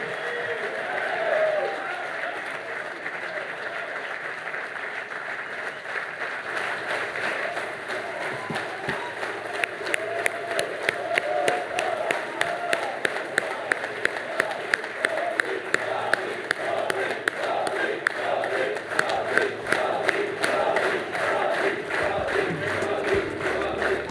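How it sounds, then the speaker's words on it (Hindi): A summit audience breaks into loud applause and cheering, a broad roar of crowd noise that builds into rhythmic unified clapping in steady beats, sustained throughout. "ये तालियों की गड़गड़ाहट बनाए रखिए।"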